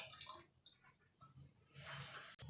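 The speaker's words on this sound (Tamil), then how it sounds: "புளி கரைச்சி வச்சுருக்கிற அந்த தண்ணியை நான் ஆட் பண்ணிக்கிறேன்" Tamarind water is poured into a pot for a village-style crab curry, giving soft splashing and dribbling that comes in short, uneven bursts, with a brief splash near the end.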